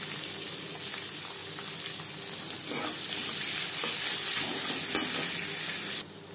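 Whole cumin seeds and chopped onion frying in oil while being stirred: a continuous soft sizzle with light scraping and occasional ticks, fairly quiet and close, cutting off abruptly near the end, with no voices.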